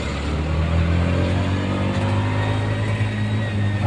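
Steady city traffic in Quezon City drones on, a continuous low engine rumble of nearby cars with mild revving and no talking.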